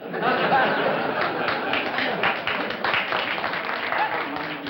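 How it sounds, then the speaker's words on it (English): Studio audience applause on a vintage comedy quiz show, a steady wash of clapping with some chatter and chuckles, fading slightly toward the end. "I didn't see any necessity for applause at that moment"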